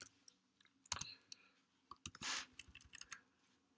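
Soft, close clicking of computer keyboard keys, a few irregular taps and short bursts of typing, quiet and without speech.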